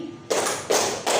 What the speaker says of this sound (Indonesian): pagi itu tepuknya 3 kali